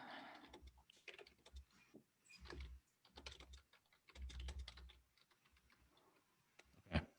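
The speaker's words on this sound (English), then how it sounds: "I'm just typing it" Close, quiet typing on a computer keyboard comes in irregular bursts of clicks with short pauses, ending in a single sharper keystroke.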